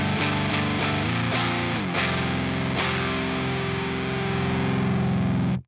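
An electric guitar played through a Fuzz Imp Furia distortion pedal rings out thick and saturated, a few chord changes sustaining loudly before the sound cuts off abruptly at the end.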